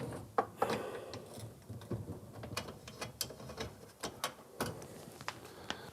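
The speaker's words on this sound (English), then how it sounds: "Last step is we're gonna take all these screws out that's holding this dishwasher in." A ratchet removing the mounting screws that hold a dishwasher under a kitchen counter, close and fairly quiet, with a series of sharp clicking bursts and short pauses between turns.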